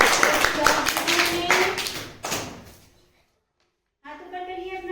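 Children applaud together in a classroom, a burst of dense clapping that fades out, followed by a short silence before a teacher resumes speaking.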